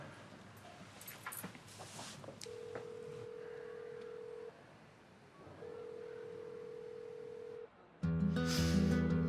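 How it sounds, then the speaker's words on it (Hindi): A telephone call is placed in a Hindi-dubbed drama. A faint background gives way to two long, steady ringback tones, followed by a louder burst of electronic telephone tones at the end. "फोन करके देखती हूँ।"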